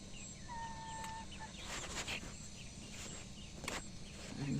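Chickens clucking in a backyard coop, soft scattered clucks and short calls over a steady outdoor background hum, moderately distant with a few brief louder bursts.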